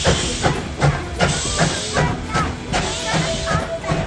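A steam train hisses steadily at a mountain zig-zag switchback station, with broadband steam venting and rhythmic mechanical clanks throughout, under the murmur of a crowd.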